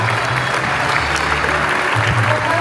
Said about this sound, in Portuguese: un aplauso para México y toda su gente